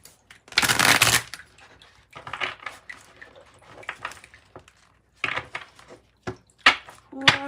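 Witch's Oracle tarot-style cards shuffled by hand in several close, loud bursts, a long riffle followed by shorter scraping shuffles and taps, with no talking.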